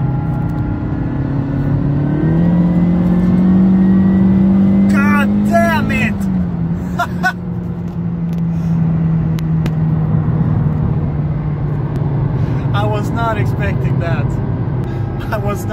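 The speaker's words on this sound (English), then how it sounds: "you can hear the gearbox, it's a straight cut, quiet gearbox" A car with a straight-cut gearbox drives along, its engine and gear whine rising and then holding steady throughout. People talk and laugh over it in places.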